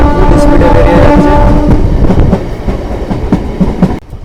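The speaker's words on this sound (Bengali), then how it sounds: "ট্রেন এখন আমাদের ফুল স্পিডে বেরিয়ে যাচ্ছে" A passenger train pulling out of Khagraghat station and gathering full speed, loud continuous rumbling with rhythmic clickety-clack of wheels over rail joints, heard close from on board, easing slightly toward the end.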